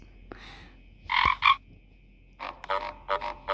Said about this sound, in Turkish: Bakar mısın yanımızda kurbağa var